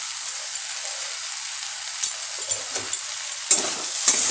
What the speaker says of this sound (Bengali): আমি আবারও নেড়ে ছেড়ে দেব।